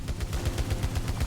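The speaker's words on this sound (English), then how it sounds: "So this is the carbine, and it's an automatic weapon" Rapid automatic fire from the carbine in the video game Returnal, a fast even stream of punchy shots lasting just over a second, loud and close with no talk.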